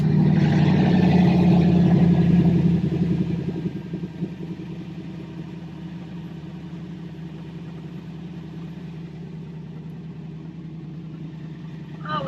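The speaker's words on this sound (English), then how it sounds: "So it still sounds really good because it's got true dual exhaust." A 2006 Toyota Tundra V8 with true dual exhaust and new catalytic converters rumbles loudly, then settles into a steady, lower idle burble, heard close and continuous.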